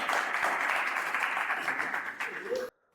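Dense audience applause at a studio dating show, loud and close with crowd noise and voices mixed in, holding steady for a few seconds before cutting off abruptly into silence.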